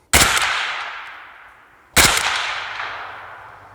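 Two loud rifle shots at an outdoor shooting range, each a sharp close crack followed by a long fading rumble, spaced about two seconds apart with no talk.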